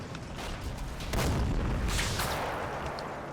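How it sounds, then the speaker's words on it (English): Machine guns firing in a Combat Mission wargame, heard as a dense, continuous rumble of gunfire and booms, loud and close, with no talk over it. "We've got the MGs firing on this, and that one's definitely doing the business."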